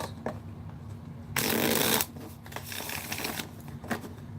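Tarot cards are shuffled briefly and loudly, a dense riffling burst lasting about half a second. Softer handling clicks and taps come before and after it, close by in a quiet room.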